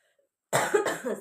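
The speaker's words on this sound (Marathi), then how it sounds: "खोकला येतो मला कारण की खोकला लागलेलाच आहे" A woman coughs in a short burst of a few harsh coughs, close to the microphone, after a brief silence.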